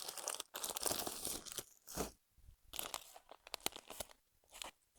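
Close crinkling and crunching of plastic packaging in irregular bursts with short pauses, loud and near, no talking.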